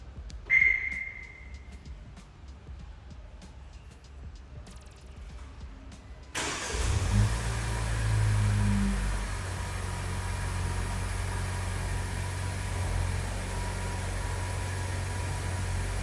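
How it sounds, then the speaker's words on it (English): A 2024 Jaecoo J7 Glacier starts remotely, a sharp electronic chirp first, then a steady run of quiet ticking before the engine turns over abruptly and settles into a low, even idle heard from outside the car. "the ability to actually start the car remotely whilst you're standing on the outside."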